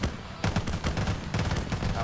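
Rapid bursts of 12.7 BMG machine gun fire in a Halo video game, two long rattling strings of shots, loud and close, separated by a brief gap, with no speech.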